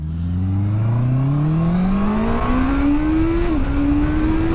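Honda CBR650R inline-four motorcycle engine accelerating hard through a gear, a loud rising whine with a brief dip at a quick-shifted change before climbing again, close and alone.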